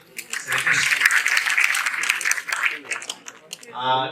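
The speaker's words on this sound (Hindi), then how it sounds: "एक बार तालियां बजाइए" An audience at a golden jubilee gathering breaks into dense applause for several seconds, fading out as a speaker's voice returns at the end.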